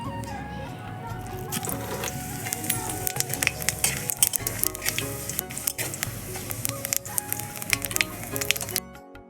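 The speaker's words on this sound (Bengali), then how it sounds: "এবার শুকনো লঙ্কা, তেজপাতা আর জিরে এটা ফোড়ন দিয়ে দেবো।" Dried red chillies, bay leaf and cumin seeds tempered in hot oil, a dense crackling sizzle with sharp pops and spits throughout, close and loud, with a steady busy texture and no speech over it.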